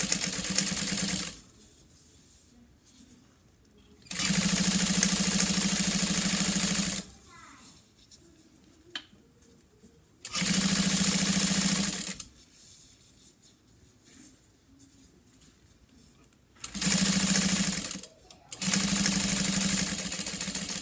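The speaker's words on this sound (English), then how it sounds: "we'll go ahead and top stitch this 1/8 inch away from the edge." A sewing machine topstitches a handbag an eighth of an inch from the edge, running in four loud, steady bursts separated by quiet pauses, with faint handling noises between them.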